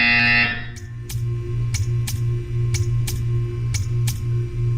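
A buzzer in the video game Portal 2 sounds as a series of sharp, evenly spaced electronic pulses, about eight in a row, over a steady low hum after a brief tone at the start.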